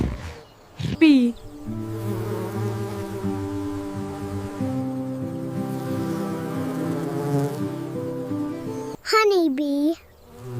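A bee buzzes steadily and close for several seconds, a continuous droning hum, framed at the start and end by short high child-like vocal sounds.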